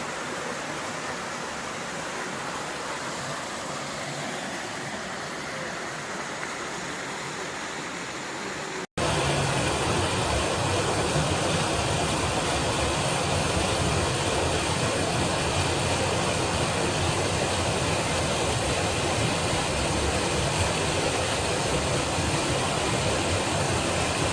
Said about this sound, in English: Here's the Zealand Hut waterfall.